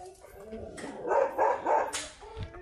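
A pet dog barks three times in quick succession, mid-distance, along a cycling route in Hong Kong, with outdoor ambience around it.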